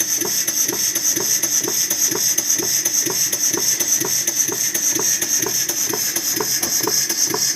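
An A. J. Reeves Vulcan model steam engine runs smoothly on 9 pounds of pressure, giving a fast, even, loud mechanical beat with a constant hiss throughout and no voices.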